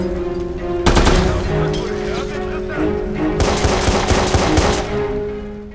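Rapid automatic gunfire from a Watch Dogs shootout crackles in dense bursts: a sharp volley near the start, then a sustained rattling stretch later, loud and close over a steady game background.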